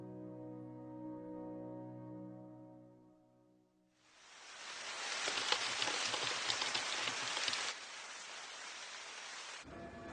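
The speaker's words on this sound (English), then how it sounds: "since it's raining" Heavy spring rain pours down in a steady, dense hiss that starts after a quiet musical passage and fills the scene loudly with no voices.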